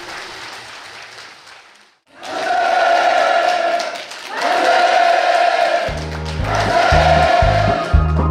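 At a housing move-in ceremony in Ryongchon-dong, Tanchon, a large crowd breaks into loud, enthusiastic applause in repeated surging waves after a brief pause, with cheering and a band striking up beneath the clapping near the end.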